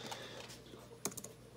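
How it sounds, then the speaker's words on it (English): A few quick keystrokes on a computer keyboard, faint and close, with a brief burst of clicks near the end. "Just type in to Google"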